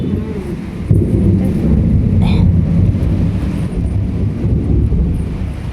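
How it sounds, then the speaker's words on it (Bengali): A heavy, continuous roar of rain with a low rumble that swells like distant thunder. The sound stays loud and dense throughout. "এই দেখো, মেঘ ডাকছে আর ঝমঝম করে বৃষ্টি হচ্ছে।"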